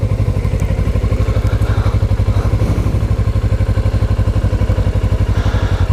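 A motorcycle rumbles loudly and close with a steady pulsing engine beat as it rides up onto a sidewalk by Fontana Lake. No one speaks.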